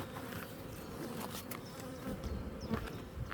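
Honey bees buzz around beehive colonies in the Vienne during an early-April honey flow, a continuous, fairly soft droning hum with individual bees passing close now and then.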